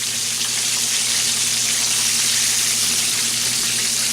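Chicken frying in a pot of hot oil, a steady dense sizzle and crackle that carries unbroken at close range, with a faint low hum running beneath it.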